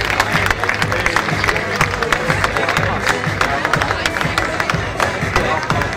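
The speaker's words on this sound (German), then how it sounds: "Einen kräftigen Applaus für die Junioren und Juniorinnen." Applause and clapping from a crowd at a prize ceremony for junior men and women at the WOMC 2011 event, sustained and fairly loud, with some cheering mixed in and a voice underneath.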